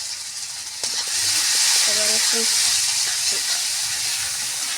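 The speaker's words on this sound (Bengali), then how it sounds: "পেঁয়াজটাকে ভাজা ভাজা করে নিই" Chopped onion and garlic frying in oil while cooking a tangra fish curry, a steady broadband sizzle that swells near the start and holds loud, with a few brief spoken words over it.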